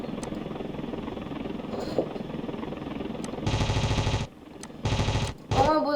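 Aircraft in an online air-combat video game fire their guns in loud, sharp bursts over a steady engine drone, three separate volleys cutting in near the end.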